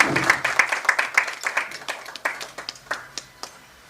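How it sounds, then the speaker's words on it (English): An audience at a public finance institute event claps for Ndindi Nyoro, loud and dense at first, then thinning into scattered individual claps that fade out over several seconds. "let's give a good round of applause to Ndindi"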